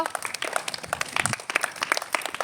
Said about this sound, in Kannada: ಚಪ್ಪಾಳೆ ಹಾಕ್ರಿ